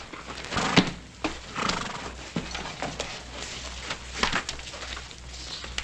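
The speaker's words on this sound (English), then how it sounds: "Take care of your horse?" At a stable in a 1960s TV western, a horse whinnies and shifts its hooves close by in an uneven series of snorts, neighs and thuds, with no talk.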